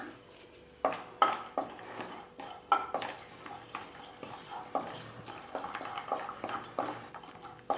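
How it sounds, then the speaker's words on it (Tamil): Broken cashew pieces lightly roasting in hot ghee for ABC halva, stirred in a pan: steady scraping and clinking of a spoon against metal, close and moderately loud, with no talk. "நான் முந்திரி எடுத்து வச்சுருக்கேங்க சின்ன சின்னதாக உடச்சி வச்சுருக்கேன் ரெண்டு ரெண்டாக உடச்சி வச்சுருக்கிறேன் இதை லைட்டாக வறுத்துக்கலாம்"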